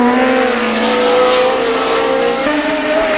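Formula One cars racing at the 1970 British Grand Prix, a loud continuous engine drone with rising and falling harmonic whines as several cars pass close, no voices.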